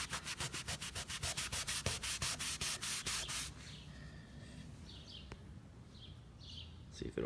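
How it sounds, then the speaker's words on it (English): A towel rubs hard over a wooden sign to lift off tree sap, giving a fast run of loud, rhythmic scrubbing strokes for about three seconds before easing to softer wiping, with faint bird chirps outdoors in the background. "And the sap is starting to come off on this towel. So just keep rubbing."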